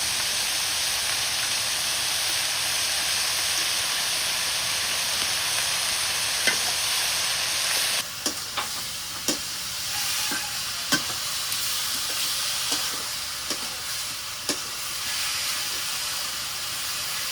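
Garlic paste and onion paste fry in hot oil with a steady loud sizzle and hiss, joined about halfway by sharp scraping stir strokes against the pan, with no talk.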